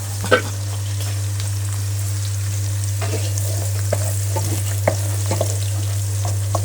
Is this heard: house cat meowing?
no